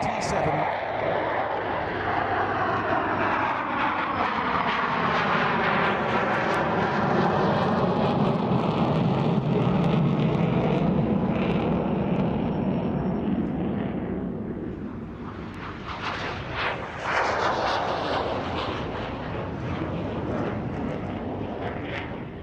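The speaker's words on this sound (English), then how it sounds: "first leaping into the air, the English Electric Canberra PR9" English Electric Canberra PR9 jet taking off at an RAF Waddington airshow, a loud continuous engine roar that swells and sweeps in pitch as the aircraft passes, easing and then rising again near the end, with a commentator speaking over it.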